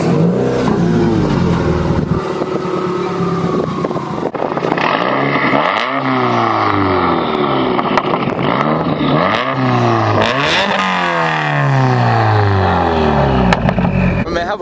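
A car engine cranks and catches, then revs repeatedly in rising and falling sweeps, loud and close, with voices faintly underneath.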